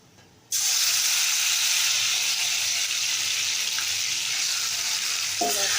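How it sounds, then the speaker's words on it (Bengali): Garlic paste for beef dropped into a hot pan bursts into loud, steady sizzling after a brief silence, with faint stirring scrapes near the end and no talk. "নাড়াচাড়া করে লালচে করে নেব, ভালোভাবে কষিয়ে নিচ্ছি"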